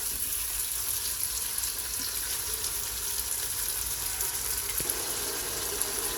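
Ground beef and tomatoes frying in an Instant Pot on saute mode, a steady bright sizzle with soft crackles running throughout, close and continuous with no talking.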